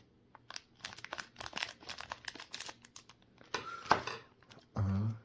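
Plastic wrapping on a Bandai One Piece Card Game Romance Dawn OP-01 booster box being cut and peeled open, a close, quiet series of crinkles and tearing rustles ending in a short low hum.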